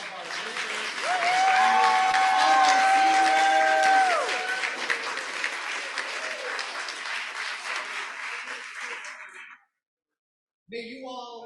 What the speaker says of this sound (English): Let's have one more warm round of applause and love for all of our visitors.